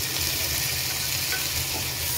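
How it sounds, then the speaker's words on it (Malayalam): Onions sauté in a pan for Kerala beef varattiyathu, giving a steady, even sizzle with soft stirring scrapes and no voices. "നമ്മുടെ ഉള്ളി ഇവിടെ നന്നായി വഴണ്ടി വന്നു"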